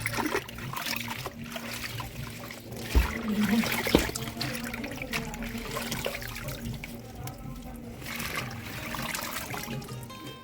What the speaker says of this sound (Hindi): और यहाँ पर हम पानी से धुल लेते हैं